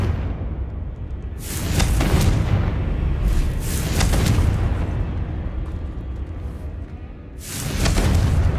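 Confringo, the fire spell in Hogwarts Legacy, sets off repeated loud booming explosions in a spider-filled area. The blasts come as rolling bursts over a constant roaring rumble, and no one speaks.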